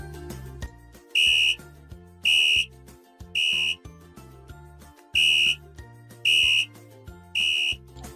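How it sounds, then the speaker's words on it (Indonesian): Six short, shrill whistle-like beeps sound in a roughly regular pattern over a background of music. "kurang lebih itu bunyinya cuman seperti peluit ya, prit seperti itu"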